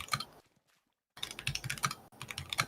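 Rapid typing on a computer keyboard, with close, crisp key clicks in quick bursts broken by a short silent pause and no voices.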